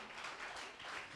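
A church congregation claps loudly and steadily during a Telugu Christian sermon, a dense, continuous patter of many hands with no talking.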